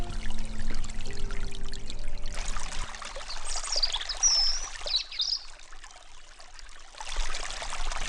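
A forest creek flows and trickles steadily at close range, a continuous pouring wash of water with no voices.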